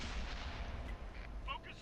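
Tank cannon fire in World of Tanks, a Russian tank flanking a Motherland heavy: dense, continuous low rumbling blasts fill the clip, with a few brief higher metallic pings near the end and no speech.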